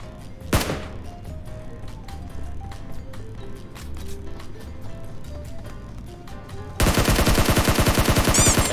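Automatic gunfire in PUBG Mobile: quieter scattered clicks and ambience give way to a sudden loud, rapid burst of shots near the end, with no voices heard.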